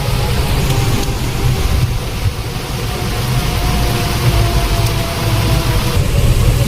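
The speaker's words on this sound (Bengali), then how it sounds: "কি বৃষ্টি আসছে দেখ, বৃষ্টি দেখ কেমন" Heavy rain pouring outdoors, a loud, dense, continuous roar of falling water that stays steady throughout with no pauses.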